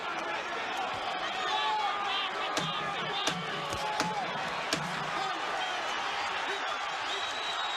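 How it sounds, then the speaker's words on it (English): Boxing crowd at the Atlantic City Convention Center applauding and cheering at the end of a heavyweight bout, a steady wash of distant claps and voices with a few sharp thuds, under a commentator's talk. "the crowd at the Atlantic City Convention Center comes to its feet to applaud that"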